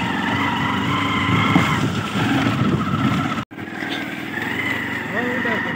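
A motorbike rides along a path between farm fields, its engine a steady, continuous drone near the microphone with a brief dropout partway through; speech-like sounds mix in throughout.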